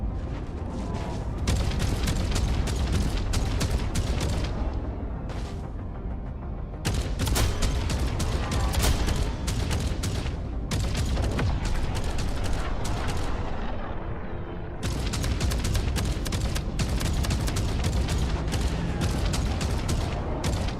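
Sustained enemy gunfire in the pirate-ship game Skull and Bones, dense bursts of shots and booming cannon-like blasts rolling almost without pause, loud and close, with brief lulls between volleys.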